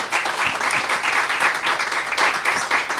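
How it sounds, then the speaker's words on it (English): Audience applause at a writers' festival event honouring an author, dense, continuous hand clapping from a crowd, loud and steady for about three seconds. "So another big round of applause for Dr."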